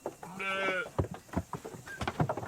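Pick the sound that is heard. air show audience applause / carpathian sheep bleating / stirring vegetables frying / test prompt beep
carpathian sheep bleating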